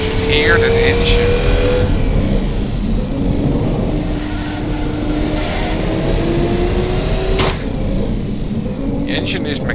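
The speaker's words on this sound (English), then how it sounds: "Hear that engine." A car engine revving in the Automation car-building game, a steady raspy drone with rising pitch sweeps as it accelerates through the gears, loud and continuous while someone talks over it.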